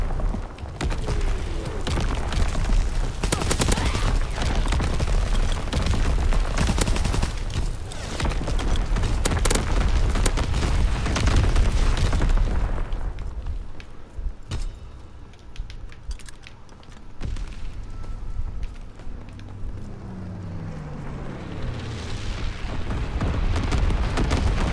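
Mortar rounds explode in a multiplayer team deathmatch video game, heavy booms and crackling blasts piling up loudly for the first half before thinning to scattered impacts and rumbles, with a last swell of noise at the close.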